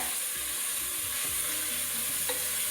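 Loud, steady sizzling of onions, spices, coriander and mint frying in a hot pan for chicken pulao, with occasional scraping and clinks from stirring, no voices.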